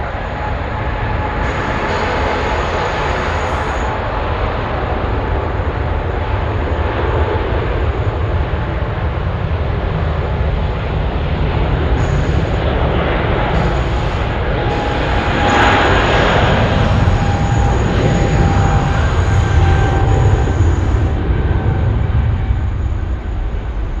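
Boeing 777 taking off from runway 16 right at Sydney Airport at night, a loud, steady jet engine roar that swells slightly midway and holds throughout, with no talk.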